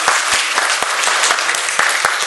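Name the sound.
audience applause at a church retreat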